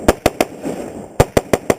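Haley Strategic adaptive carbine fired in a rapid string, seven loud, sharp shots up close, three quickly then a brief pause and four more, with no talking.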